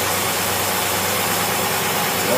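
An engine idles steadily on an Autolite two-barrel carburetor, a continuous close, even rumble with no talk over it.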